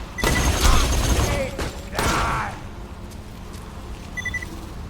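Tablet video game gunfire on a Chuwi Hi10 X1 with an Intel N150 chip, a few loud clattering bursts of shots with mechanical clicks and a short electronic beep, heard through small speakers.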